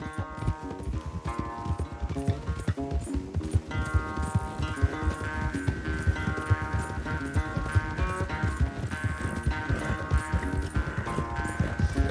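A horse gallops in the video game Red Dead Redemption 2, with steady rhythmic hoofbeats running through a loud, continuous musical score for the whole stretch.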